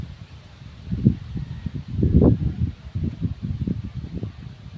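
Wind buffets the microphone in gusty low rumbles, with one stronger surge in the middle and steady blustery noise throughout, close and loud.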